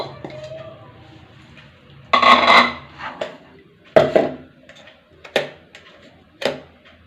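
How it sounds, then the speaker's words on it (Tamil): Peanuts tip into bubbling sugar syrup in a pan and get stirred, giving a burst of rattling, scraping clatter and then several sharp knocks and scrapes of a spoon against metal over a faint background hum. "நம்ம இப்போ இந்த வேர்க்கடலையை போட்டு மிக்ஸ் பண்ணிக்கலாம்"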